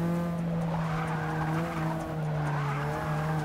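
Sustained tire squeal from a race car braking in Forza Motorsport 6, a steady high screech over engine drone held throughout without a break.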